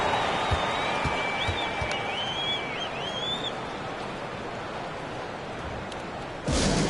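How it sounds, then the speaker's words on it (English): Steady synthetic crowd roar and applause fill an NBA basketball video game arena during a timeout, a continuous wash of noise with faint whistling tones and a louder swell near the end. "Fans, please give a big round of applause for your damn team."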